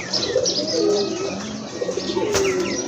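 Pigeons coo softly and repeatedly nearby, low rolling calls with occasional chirps and a brief flutter of wings.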